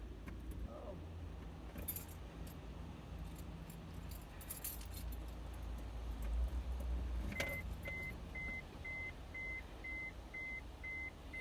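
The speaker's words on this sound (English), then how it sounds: "I'm going to drive it up on the ramp" A 1998 Mazda MPV minivan being driven up onto a ramp, with a low steady engine rumble, jingling keys, and a quick run of short electronic beeps near the end.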